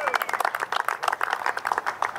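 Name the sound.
audience applause at golf awards ceremony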